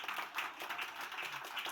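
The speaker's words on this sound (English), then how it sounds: "Round of applause." An audience at a panel on children's data privacy claps, a sparse, fairly faint patter of hands at moderate distance continuing throughout without voices.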